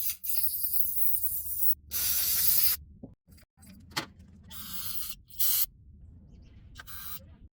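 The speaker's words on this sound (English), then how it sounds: "we'll start with the carbon intake cleaner" Aerosol carbon intake cleaner sprayed outdoors onto a 2008 Acura MDX engine block, in several loud hissing bursts of varying length separated by short pauses.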